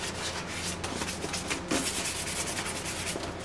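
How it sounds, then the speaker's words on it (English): Sanding the white plastic shell of a Star Wars Sandtrooper helmet by hand with fine 2000 grit sandpaper to dull its sheen, a steady soft scratchy rubbing that carries on without pause, close up and fairly quiet, with no talking. "I'm going to go with the 2000 grit sandpaper, and I'm basically going to rough it up so that that sheen goes away"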